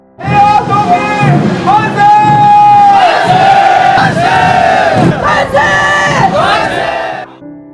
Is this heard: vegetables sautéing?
no